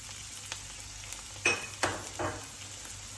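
Chopped tomato dropped into a hot pan of garlic for bhindi masala and sautéed. A steady soft sizzle runs under a few short stirring scrapes and clinks close by, with no voices.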